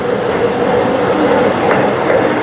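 The Adra-Medinipur MEMU special train rolls in close by with a loud, steady rumble and rattle of wheels and carriages, a faint squeal rising briefly above the continuous noise, and no voices heard.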